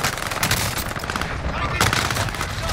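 Rapid gunfire in a multiplayer shooter video game, loud and dense bursts filling the whole moment with a busy mix of game sound and faint voice chat underneath.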